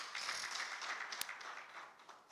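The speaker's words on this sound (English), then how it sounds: "Can we give them a hand of applause?" Scattered audience applause at a West African civil society conference on democratic recession, a steady wash of clapping with one sharp nearby clap, faint and brief.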